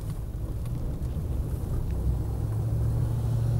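A Land Rover Defender 90 50th anniversary edition on a new set of General Grabber tyres drives along the road, giving a steady, close low engine and road rumble that builds slightly, with no voices.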